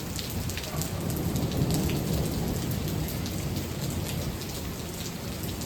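Steady, dense rain in Avondale, Arizona pours down without a break during a storm of nearly continuous thunder, with low rumbling running underneath. The downpour stays loud and even throughout, and no one speaks.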